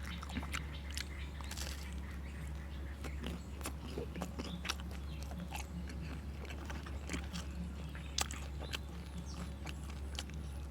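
Crisp, crackling bites and chewing on thick, well-baked pizza crust come through up close as sharp, irregular crunches over a low steady hum, with no voices.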